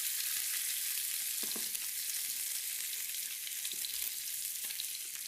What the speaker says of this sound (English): I'm just going to lower the heat now it's sizzling